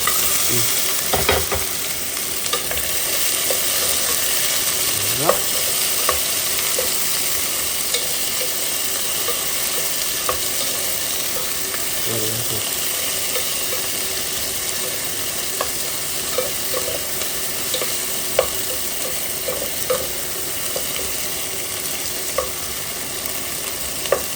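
Onion and tomato fry in a frying pan in a continuous loud sizzle, with occasional utensil clinks and scrapes as they are stirred, and no speech throughout.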